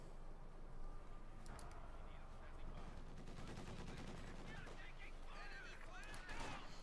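MG34 machine-gun fire in a Company of Heroes 2 battle, with bursts of gunfire and artillery rumbling through a dense, continuous battle mix while a commentator's voice may run over it.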